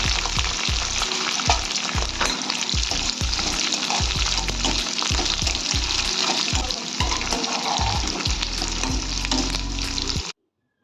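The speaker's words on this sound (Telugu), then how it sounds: "వీడియోలో చూస్తున్నట్టుగా ఎండ్రాయిల్ ఫ్రై అయిన తర్వాత పచ్చిమిరపకాయ కరివేపాకు అనేది వేసుకుందాం." Dried prawns frying hard with green chillies and curry leaves in hot oil, a loud steady sizzle broken by regular low knocks of a spatula stirring the pan, stopping abruptly at the end.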